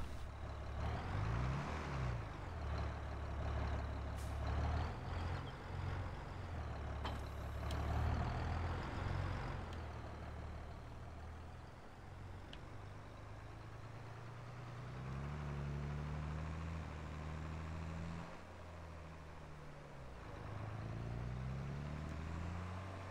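A John Deere 4755 Turbo tractor in Farming Simulator 22 starts up and settles into a deep, steady diesel idle, a low rumble that runs throughout with no talking.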